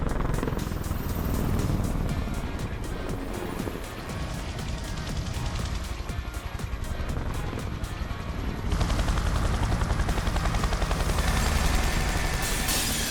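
A helicopter in the video game Yakuza 6: The Song of Life makes a loud, continuous, rapid rotor chop, mixed with bursts that resemble gunfire, and grows denser in the final seconds.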